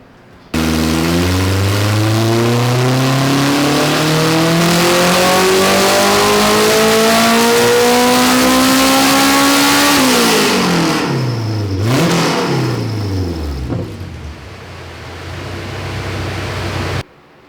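A K-series Honda Civic engine running on VP race fuel revs hard and loud, pitch climbing steadily for about ten seconds, then drops off and blips several times before settling into a steady idle, with no talking.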